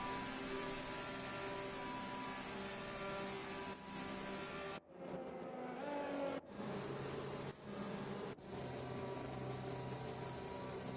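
Simulated Formula 1 race car engine from an online league race at Baku, a loud sustained droning whine with strong harmonics that briefly cuts out and returns, interrupted by a few sharp breaks.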